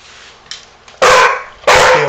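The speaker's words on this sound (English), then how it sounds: "Want to see a puppy?" A puppy lets out two sharp, loud barks about half a second apart, close by, after a faint yip in an otherwise quiet room.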